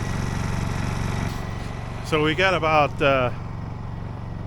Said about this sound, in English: that sound you're hearing is a generator